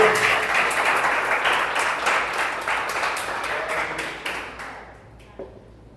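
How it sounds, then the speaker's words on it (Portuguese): A church congregation claps together loudly for a few seconds during a sermon, the dense applause gradually thinning and fading out, with a few last scattered claps at the end. "Dê um aplauso ao Senhor Jesus por isso."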